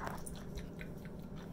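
Someone chews a bite of cinnamon swirl bread close to the mic, soft moist mastication sounds repeating over about a second and a half.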